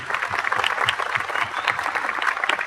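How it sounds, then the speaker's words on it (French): Audience applause at a convention panel with actors in Toulouse, a brief dense burst of many hands clapping steadily at moderate volume. "Applaudissements s'il vous plaît."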